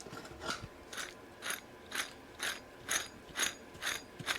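Worn wheel hub bearing from a Mercedes V12 being turned by hand, giving a repeating rough grinding rasp roughly twice per second, close up and fairly quiet, with no voices.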